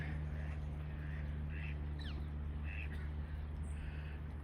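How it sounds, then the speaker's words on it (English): Ducks quack in a few short bursts at a distance over a steady low hum and background noise. "Oh look, there's ducks."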